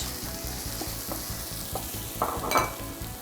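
Carrot pieces tipped into a hot pan for vegetarian minestrone sizzle and fry steadily while being stirred, with a rhythmic scraping pulse and a brighter burst of sizzle near the end, close and with no talk.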